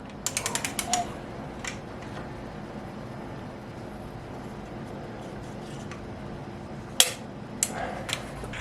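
A ratchet clicks while torquing cylinder head studs to 85 foot-pounds on a BMW M50 head going onto an E36 M52 turbo build, with a quick burst of close clicks at the start and a sharp metallic clank later, over quiet garage background.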